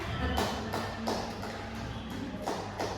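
Schoolchildren in a classroom clapping their hands together in rhythmic group bursts, roughly evenly spaced and fairly loud over a busy room background.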